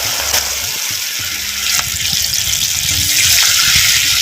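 Marinated cauliflower pieces for crispy cauliflower 65 hit hot oil in a pan, giving a steady, loud hissing sizzle that swells slightly toward the end, with no voice over it.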